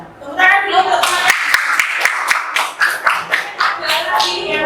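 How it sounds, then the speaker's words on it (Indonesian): A classroom of children applauds their classmates with a burst of quick, bright claps that comes in waves and fades into scattered pats, mixed with young voices talking over it. "Tepuk tangan dulu untuk teman-teman."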